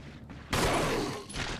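A single sharp gunshot bursts out in the Resident Evil Remake video game, a loud blast with a short decaying tail after a quiet moment, killing a monster with a headshot.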